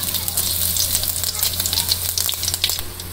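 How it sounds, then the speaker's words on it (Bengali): Cumin seeds sizzle in hot oil in a wok for a Bangladeshi village duck curry, a close, steady crackle scattered with sharp pops. "জিরে দিয়ে দিই।"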